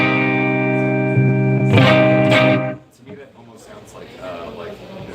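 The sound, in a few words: Fender Mustang electric guitar with delay effect, rockabilly sound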